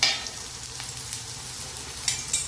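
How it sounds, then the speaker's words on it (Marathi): Taro leaf (alu) vadi rolls fry in hot oil with a continuous, close crackle and sizzle. Brief louder pops come near the start and end, and no voice is present. "आता या खरपूस आणि खमंग अशा छानपैकी तळत आहोत आपण."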